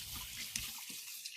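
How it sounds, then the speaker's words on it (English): Water runs steadily from a kitchen tap as hands are rinsed, a faint, continuous hiss of flow into a sink for just over a second. "I'm going to give my hands a quick rinse"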